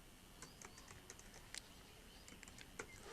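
Quiet typing on a computer keyboard while writing a resume in MS Word, a steady patter of soft key clicks with a few sharper taps, heard alone against faint background hiss.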